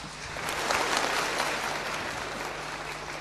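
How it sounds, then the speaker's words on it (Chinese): Audience applause welcoming three Yue opera award winners onto a Shanghai theatre stage at an awards gala, sustained dense clapping that swells early and then holds steady. "我们掌声欢迎他们3位上场"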